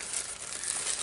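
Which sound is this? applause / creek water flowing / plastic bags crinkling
plastic bags crinkling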